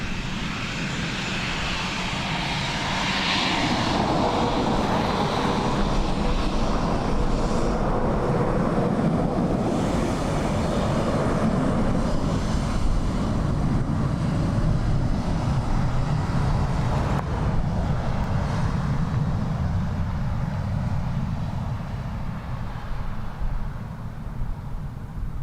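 An airliner arriving in a crosswind at Dublin Airport, a broad, steady jet engine roar heard from a distance that swells and holds for over twenty seconds, then slowly eases.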